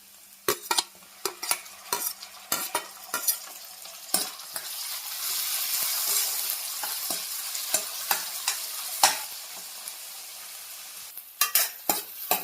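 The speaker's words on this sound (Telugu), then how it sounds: "ఇవైతే మంచిగా ఫ్రై అయింది కదండి." Tomatoes fry in a pan for egg Maggi masala with a steady hiss of sizzling oil, punctuated by frequent sharp clacks of a spoon stirring and scraping, close and clear with no talking.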